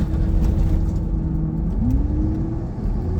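A steady diesel truck engine drones under a low, sustained groaning whine from the power steering pump while turning, the whine shifting upward in pitch partway through, heard close up.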